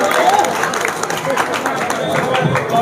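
A crowd at a political rally claps steadily, a dense wash of hands at fairly loud level with voices mixed in underneath.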